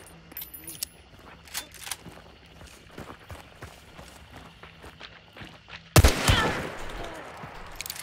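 Gunfire in Hunt: Showdown, a single loud close shot that cuts in sharply and then rings out, following a stretch of quieter footsteps and faint movement.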